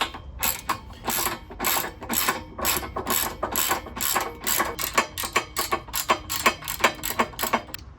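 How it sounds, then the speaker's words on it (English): A ratchet tightens a bolt on a sports exhaust manifold on a classic Fiat 500 F, a loud, rapid string of close metallic clicks in bursts that pause briefly between strokes. "I'm going to start putting a bolt on there and tighten it up"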